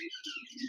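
A large male golden finch in a cage gives a short, bright chirping phrase, close and clear, with high twittering notes over a few soft lower tones.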